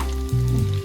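Onion fries in a pan for a homemade mixed vegetable clear soup. There is a brief burst of steady sizzling under a low hum, close and fairly loud, with no voices.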